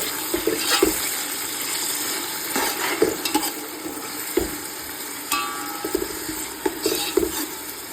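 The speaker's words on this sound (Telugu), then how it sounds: "ఇప్పుడైతే తిప్పుదాము" Biryani ingredients with coriander and mint are stirred as they fry in a pot: a continuous sizzle broken by repeated scraping and clanking of a spoon against the metal, without speech.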